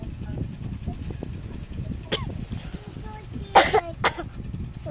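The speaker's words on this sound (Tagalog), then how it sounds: "nga pala inuubo ako" A person coughs a few times in short, sharp bursts, close and fairly loud, against quiet background murmur and light room noise.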